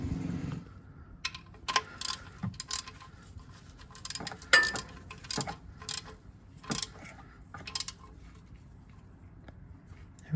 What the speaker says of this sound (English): we're gonna tighten it up with the socket wrench after that